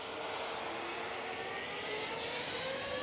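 An EasyJet jet airliner taking off from Manchester Airport for Oslo gives a faint, continuous engine roar with a thin high whine, distant and steady, with no talking.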